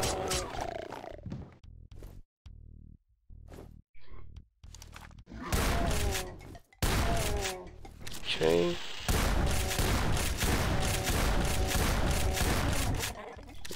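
Gunfire and monster roars in Doom with a weapons mod, loud bursts of shots broken by gaps, someone talking over part of it.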